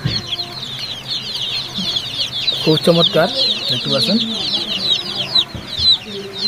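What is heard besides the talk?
tiger breed chicks clucking on a poultry farm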